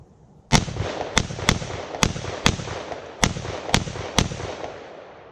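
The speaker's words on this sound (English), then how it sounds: "it's time to use this old AR and turn this thing into some Swiss cheese" An old AR rifle fires eight sharp shots in an uneven series at a target, each crack loud and punchy with a short decay, and the last shot fades out.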